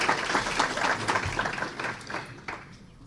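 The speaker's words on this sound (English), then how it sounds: "he deserves a round of applause" An audience at a hacker conference applauds in a steady wash of clapping from many hands that fades toward the end, with no talking.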